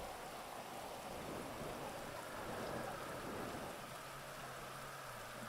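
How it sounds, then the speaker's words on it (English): Continuous in-game rain hisses over a GTA 5 race track, an even, moderately loud downpour with no other sounds rising above it. "It's raining in-game now as well."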